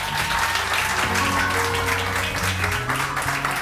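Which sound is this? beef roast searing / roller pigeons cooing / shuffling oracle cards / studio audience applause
studio audience applause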